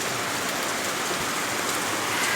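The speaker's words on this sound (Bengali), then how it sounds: "সারাদিন এইভাবে বৃষ্টির আওয়াজ শুনে গেছি, আর এখনও বৃষ্টি হচ্ছে।" Steady rain falls at night during a low-pressure spell, a dense, even hiss of drops striking surfaces close by, constant and unbroken, with no voices.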